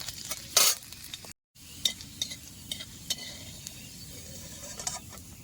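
Five or six garlic cloves fry in oil left from frying chillies, giving a soft steady sizzle broken by light scraping and clicking stir strokes and one short silent gap.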